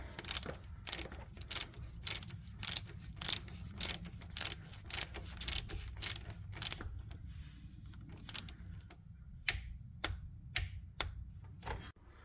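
Torque wrench ratcheting as it tightens the wheel sensor bolt on a Jaguar XKR X150 during a rear wheel bearing job, a steady run of sharp clicks close up, then slower, spaced clicks toward the end.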